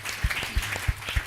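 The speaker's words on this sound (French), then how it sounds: "Applaudissons le Seigneur." A church congregation claps in praise of the Lord, giving four loud, evenly spaced rhythmic claps close by with no voices over them.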